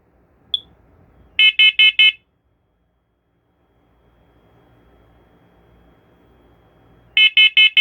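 Smoke detector alarm from a collection under test, sounding two bursts of four loud, shrill electronic beeps separated by several seconds of near silence and faint background noise.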